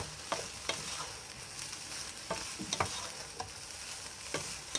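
Crab fried rice with tomato and onion stir-fried in oil, with a steady sizzle punctuated by sharp, repeated spatula scrapes and taps at irregular intervals, close by.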